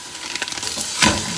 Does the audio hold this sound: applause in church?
no